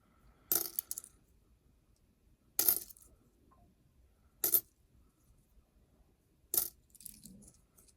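Pennies are dropped by hand onto a wooden surface near a foam pad, four separate bright clinking spills spaced about two seconds apart, close and crisp against near silence.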